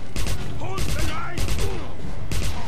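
Gunfire in the video game Wolfenstein, several loud bursts of rapid shots in quick succession with echoing booms between them, close and dominant.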